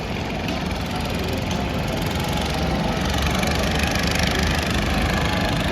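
A boat engine runs near the river in Ujjain with a loud, steady, rumbling drone that holds the same level throughout.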